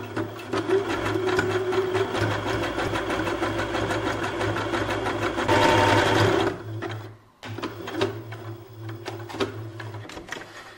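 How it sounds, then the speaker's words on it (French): A sewing machine runs a 5 mm zigzag stitch on a t-shirt or dress, a steady close whirring hum with rapid needle ticks that stops briefly, then resumes. "Je vais prendre un point zigzag de 5 mm, tout simple."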